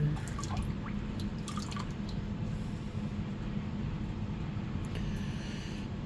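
Water pours steadily into a gold pan during basement gold panning, giving a continuous close splashing rush with a few scattered drips on top.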